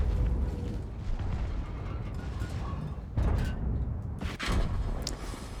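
A 60TP heavy tank firing its gun in World of Tanks, two heavy booming shots a second or so apart over steady engine and battle rumble, moderately loud.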